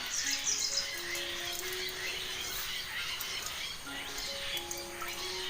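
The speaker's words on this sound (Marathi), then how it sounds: "आवाज घ्या पक्ष्यांचा." Several birds, including quails, chirp and call outdoors near a house in the morning, with short high tweets and longer whistled notes repeating over a quiet background.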